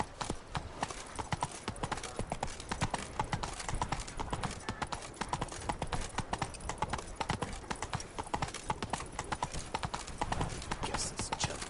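A horse trots in The Witcher video game, its hooves clip-clopping in a quick, steady, close rhythm from start to finish, with brief game voices mixed in.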